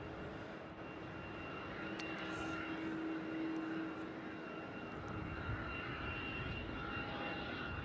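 At Melbourne Airport, a distant airliner taxis along the taxiway with a steady, faint jet engine whine and roar that swells slightly, heard alone against low background noise.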